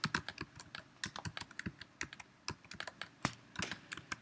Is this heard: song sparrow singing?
no